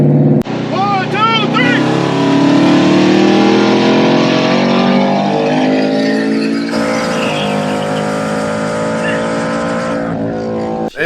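A Chevrolet C8 Corvette accelerates hard in a race, its engine rising in a loud, rising drone with gear changes. Voices talk and shout over it.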